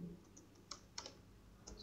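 A ping command is typed on a computer keyboard, heard as a few faint, separate key clicks close by in a quiet room.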